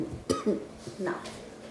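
A short, sharp cough up close, followed by a brief throat noise and some faint voice sounds in a quiet room.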